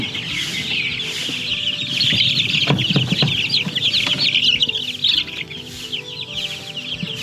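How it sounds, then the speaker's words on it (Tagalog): Chickens and young chicks cluck and chirp close by on a farm, a busy, continuous chorus of overlapping calls with occasional louder squawks. "Para na mga sisiw natin"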